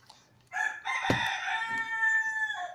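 A rooster crows loudly and close by in one long, sustained cock-a-doodle-doo that rises sharply after a quiet start and holds its ringing, harmonic call to the end.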